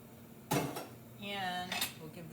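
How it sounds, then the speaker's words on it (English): Chickpeas or black-eyed peas and black beans tipped into a bowl for a salad, a quick clatter and knock against the dish, close by, followed by a short spoken phrase. "I'm going to dump in the chickpeas or your black-eyed peas and the black"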